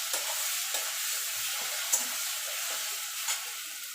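Yardlong bean paste frying in a pan, a soft, steady hissing sizzle with a few faint stirring taps, fairly quiet and close, with no one talking.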